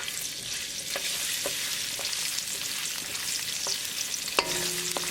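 Ginger and garlic frying in hot olive oil with cumin, a soft steady sizzle and a few light scrapes and clinks of a utensil against the pan, close by and fairly quiet.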